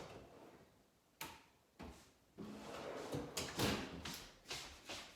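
A warming drawer in a pastry kitchen slides and thumps shut, a series of close knocks and rolling scrapes of varying loudness with no voices.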